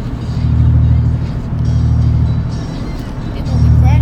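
Cars move through road traffic, with a loud low engine rumble that swells and eases in waves as vehicles pass close by, and voices faintly present beneath it.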